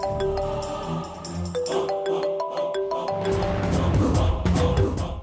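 A phone rings with an incoming call in a Telugu TV serial scene, playing a repeating melodic ringtone with clear tonal notes over a dense background music score, without voices.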